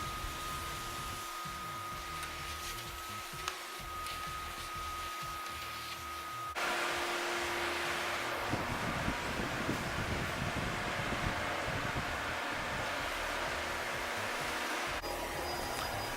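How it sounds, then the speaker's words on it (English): A steady, loud vacuum cleaner motor whine and airy roar runs throughout as it works across a wood floor, growing louder and fuller about halfway through. "I'm prepping the wood floor for cleaning, vacuuming so I can get up as much dry soil as possible"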